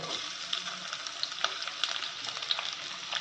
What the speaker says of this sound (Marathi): हे बघा लसूण टाकते कढीपत्ता तो पण थोडासा परतून घ्यायचा आहे हे बघा आता कांदा टाकते